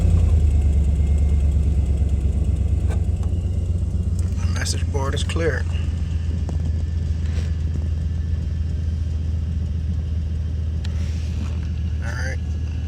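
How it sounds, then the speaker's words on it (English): A 2002 Chevy Avalanche truck engine runs at a steady low idle throughout, with a brief start-up surge near the beginning, while a voice speaks briefly over the rumble. "I can go ahead and start the truck."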